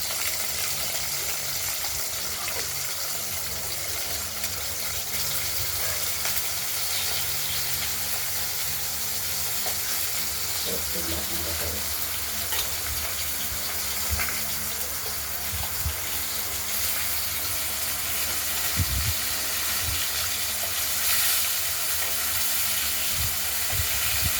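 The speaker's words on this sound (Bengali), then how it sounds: "মাছগুলো ভাজা হতে থাকুক, দেখতে থাকুন।" Pieces of katla fish fry in hot oil in a pan, giving a continuous hissing sizzle for the whole stretch with small pops and occasional clatters, at steady moderate loudness and with no talk.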